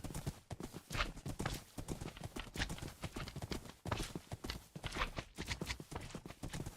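Horse hooves clip-clop rapidly and continuously in the Minecraft video game, a busy, close run of hoof strikes like several horses moving at once, with brief pauses between bursts.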